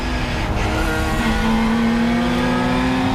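Race cars, including a Ginetta, race around the Assen circuit in a loud, steady engine roar, with a rising note as one car pulls past.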